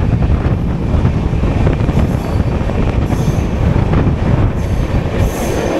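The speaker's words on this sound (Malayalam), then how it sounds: "ഗുൽബർഗ പോലത്തെ ഒരു മേജർ സ്റ്റേഷനിൽ കൂടെ നോൺ സ്റ്റോപ്പായിട്ട് പോകുന്നു." The 16218 Shirdi Mysuru Weekly Express runs non-stop through Gulbarga (Kalaburagi) station with a loud, continuous rail rumble, clattering wheels and brief squeals throughout.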